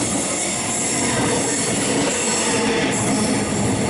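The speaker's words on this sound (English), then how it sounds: "And we've got another train coming." A loud, continuous roar of a Melbourne suburban train arriving close by at Laburnum station, with rumbling wheels and a faint metallic squeal rising partway through.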